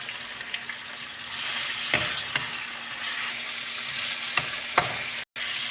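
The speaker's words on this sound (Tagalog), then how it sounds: "Tapos igigisa na natin yung karne." Meat for lomi sizzles and fries in a pan with a steady close crackle, while sharp clicks and scrapes of stirring break through it several times.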